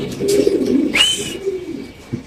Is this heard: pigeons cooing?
yes